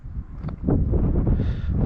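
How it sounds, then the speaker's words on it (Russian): Gusty wind buffets the microphone on a coastal hiking route in Crimea, a rumbling low roar that swells and stays loud after a quieter start. "Ветер, ветер."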